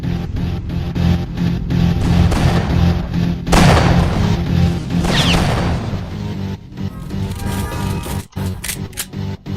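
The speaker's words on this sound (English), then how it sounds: "Flashbang going out!" A flashbang grenade goes off in a video game, a sharp loud burst standing out from a busy mix of game noise, clicks and scattered impacts, followed by more clatter and thuds.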